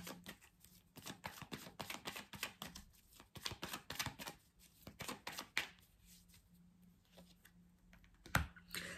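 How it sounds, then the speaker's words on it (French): Cards are drawn from a deck during a card reading, giving a close series of quick, light slapping and flicking sounds in uneven clusters, with a brief sharper snap near the end. "on va retirer quelques cartes"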